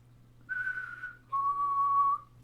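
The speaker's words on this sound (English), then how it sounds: "And if you whistle," A person whistles two clear sustained tones, the first higher and shorter, the second lower and longer, close and alone over a faint low hum.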